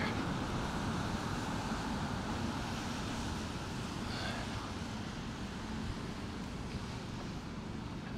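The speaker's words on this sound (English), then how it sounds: "the wind is making this umbrella a little tough to handle" Gusty wind with rain on an umbrella on a wet city street in Norwich, Connecticut, a steady broadband rush and patter with low rumbling buffets, continuous and close throughout.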